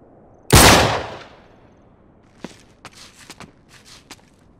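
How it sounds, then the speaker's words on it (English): In Uncharted 3, a single loud gunshot fired at a lock rings out sharply and decays over about half a second, followed by a few soft, scattered footsteps and light shuffling after a short pause. "Back up, I'll shoot the lock."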